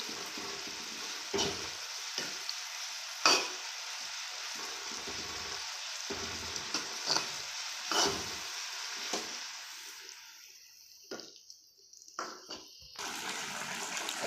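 A spoon scrapes and stirs through a potato and bean curry in a pan over a soft frying sizzle, with irregular quiet knocks and scrapes and a brief lull near the end.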